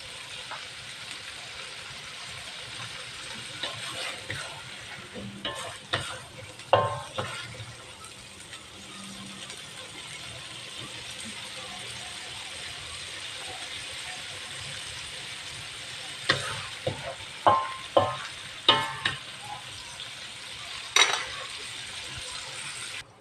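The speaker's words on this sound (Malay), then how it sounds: "Kacau-kacau." A utensil scrapes and clatters in a wok while sambal with petai is stirred and fried, with a soft frying hiss and bursts of sharp metallic scraping clustered near the middle and the end.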